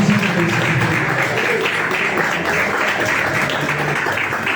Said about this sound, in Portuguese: E as suas palmas engrandecem a nome do Senhor Jesus.